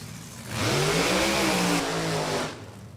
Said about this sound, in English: As Scott Hall's completed the burnout in his dragster on the right-hand side of the racetrack